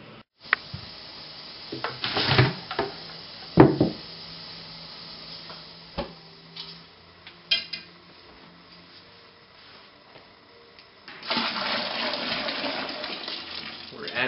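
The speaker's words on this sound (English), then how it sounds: "We're adding hot water to stop the starch conversions." Hot water pours into a homebrew beer mash during starch conversion, a soft running splash with intermittent clatters and bumps, then a steadier, louder rush of flowing water near the end.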